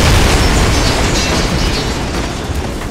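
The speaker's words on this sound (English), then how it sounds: "Pumpkin bombs, bro." Pumpkin bomb blast in a Ninja Turtle video game, a loud, dense rumbling explosion that fills the whole stretch with heavy low roar and sustained debris noise, no talk over it.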